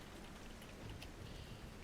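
Light drizzle falls steadily, a soft, faint patter of raindrops on a surface forming an even hiss throughout, with no voices.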